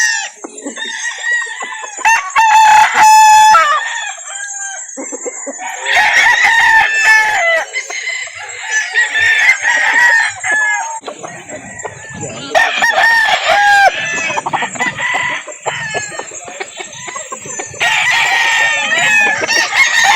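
A poultry market in Calauan, Laguna, full of chickens and roosters: repeated crowing from several cocks over constant loud clucking and cackling, bursts rising and falling in waves, with faint voices of people mixed into the background.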